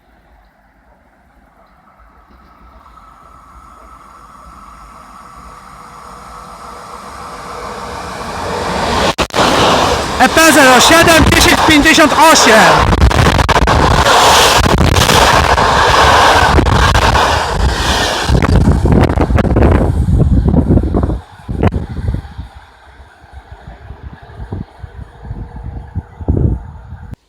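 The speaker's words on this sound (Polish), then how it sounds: "Wjeżdża pociąg Intercity Przemyślanin relacji Przemyśl Główny Świnoujście." An Intercity Przemyślanin passenger train, Przemyśl Główny to Świnoujście, pulls into a station, a rumble that swells into a loud roar of wheels and wind, then eases to clattering as it slows, with a station announcement over it.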